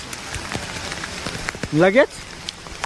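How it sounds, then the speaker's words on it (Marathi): Rain patters on a tent-like shop awning on the way up Raigad fort, a dense crackle of close drops, with a short burst of a voice partway through. "इथं वर असं टेंट सारखं आहे, दुकान आहे नाही का. आणि आम्ही थांबलोय पावसात."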